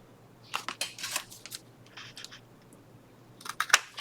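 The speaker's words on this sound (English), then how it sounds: "I may just cut this in a very small tag shape" Scissors snip paper into a small tag shape in a series of quiet, close, crisp cuts that come in two bursts separated by a short pause.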